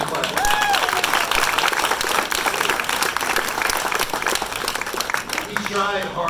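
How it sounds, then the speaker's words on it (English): Audience at a charity fundraising event applauding an honoree, sustained dense clapping from a sizeable crowd that holds steady throughout, with a few voices and a brief whistle mixed in. "Go ahead, let's give Aaron a clap."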